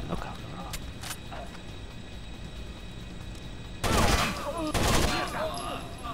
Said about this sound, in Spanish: ¡Estoy disparando, cabrón!